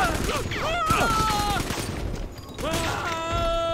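Bursts of gunfire rattle in Bioshock 2 amid chaotic combat, mixed with pained groans and vocal cries over a rough, noisy background.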